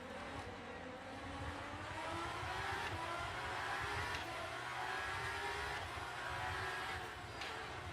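Hypercars in the Le Mans Ultimate racing game howl flat out three wide through a fast curve, a dense continuous roar of several engines with rising pitch sweeps and a few passing surges.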